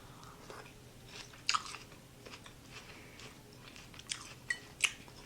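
Someone chews a crunchy fennel and grape salad up close, with a few sharp crisp bites and quieter soft chewing between them, alone with no talk.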